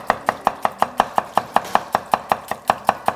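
A knife chops green onion and garlic on a cutting board in a steady, even rhythm of about five crisp thuds per second, close and fairly loud with no talking.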